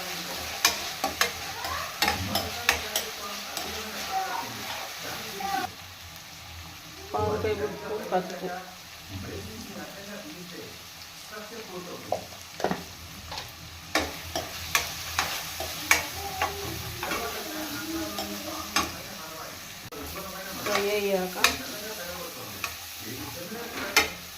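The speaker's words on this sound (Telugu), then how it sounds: "అల్లం వెల్లుల్లి పేస్ట్ పచ్చి వాసన పోయేంత వరకు ఫ్రై చేసుకుందాం" Ginger garlic paste fries with chicken livers and gizzards, sizzling steadily in the pan while a spoon scrapes and stirs in repeated bursts. Talk comes through now and then.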